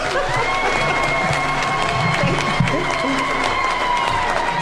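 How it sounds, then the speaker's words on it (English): Applause mixed with cheering and shouts from a crowd honoring the chief guest at an International Women's Day event, a dense continuous roar of clapping and voices held at steady volume throughout. "And can we give her a better clap"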